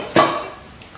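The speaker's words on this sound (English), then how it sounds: "So what we'll do now is I'll get a frying pan" A light frying pan being picked up in a kitchen gives a single sharp metallic clank that rings briefly and then fades, with no talking.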